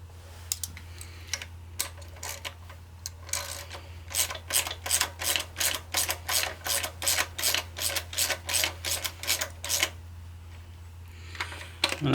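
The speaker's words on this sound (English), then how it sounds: "I'm just going to run this bolt up, or the nut rather" A wrench runs a nut up snug on a Ford 4000 tractor engine during piston installation, producing a rapid, even series of ratchet clicks in a rhythmic burst over several seconds, close and fairly clear above a low hum.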